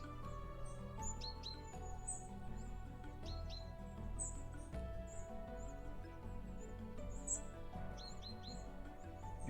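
Birds chirp and tweet in short repeated bursts over a steady low outdoor background at sunrise, moderately close, with no talking.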